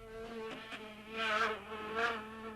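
A housefly buzzes with a steady, harmonic drone that swells louder twice as it flies closer, with no voices present.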